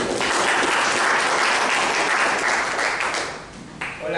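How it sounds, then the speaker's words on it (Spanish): At a legal lecture on Peru's property fraud law, an audience bursts into loud, dense applause that holds steady, then fades quickly near the end. "vamos con fuertes aplausos al doctor Julio Pozo Sánchez."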